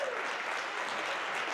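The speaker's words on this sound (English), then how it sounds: "let's give a round of applause" Dense, even applause fills a school gym as the crowd claps for the wrestling teams at a high school triangular meet, a continuous wash of many hands with no pauses.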